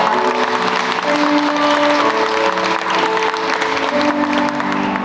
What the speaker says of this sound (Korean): 네, 박수 한번 보내주시기 바랍니다.